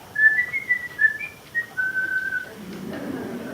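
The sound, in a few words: reply whistle imitated by speaker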